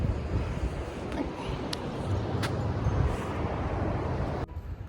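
Steady surf on a beach with tide pools, a continuous rushing wash of waves heard close, with wind buffeting the microphone throughout.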